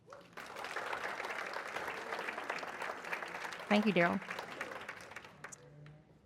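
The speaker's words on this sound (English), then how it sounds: "So once again, just give a round of applause to all our 4 sponsors" Luncheon audience at a chamber of commerce membership meeting giving a round of applause, steady clapping that tails off as someone speaks briefly over it.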